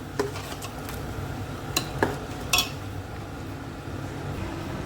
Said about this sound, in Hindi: और ये मम्मा कर रही है अभी इनको मिक्स फटाफट से